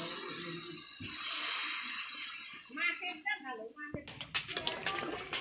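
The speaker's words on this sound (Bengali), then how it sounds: "দেখুন জল দিয়ে দিলাম, আরেকটু জল দেব।" Water poured into a pan of potato and cauliflower curry on the stove, a steady hissing pour and sizzle that fades as someone talks over it, followed by clattering kitchen sounds.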